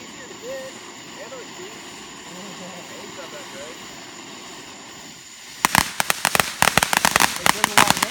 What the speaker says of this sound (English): All right, this mortar's ready to go.